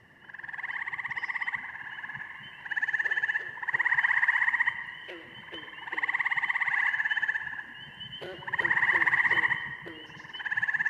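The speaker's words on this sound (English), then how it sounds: "for the gray tree frog, it's a level 2, which means there's multiple overlapping calls" Gray tree frogs give loud, buzzy trills at night that swell and overlap in repeated bursts, with several callers heard together and a few short clicking notes mixed in.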